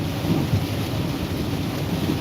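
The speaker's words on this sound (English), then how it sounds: "I'm out here in this rain on the road." Steady rain pours down outdoors on a road, a dense continuous hiss with low rumbling underneath that holds constant throughout, with no voices.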